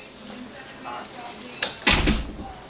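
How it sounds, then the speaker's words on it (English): A newly installed door on its closer is pushed open and then swings shut, giving a sharp knock followed by a fuller thud and short rattle near the end, with steady background hiss before it. "You open up your door, pull off your supports, and give it a push."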